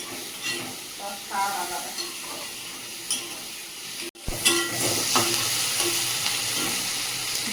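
Crab curry with turmeric frying in a pan, a steady sizzle and hiss with stirring scrapes, briefly cut off midway then resuming, while a voice talks over it now and then.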